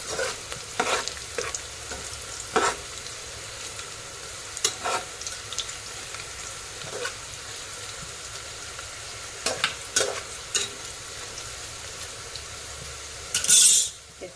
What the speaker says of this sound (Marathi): आता आपण हे खडे मसाले टाकूया चांगले परतून घ्यायचे आहे